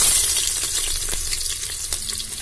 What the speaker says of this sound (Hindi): मैं ये प्याज को थोड़ा और भून लेती हूँ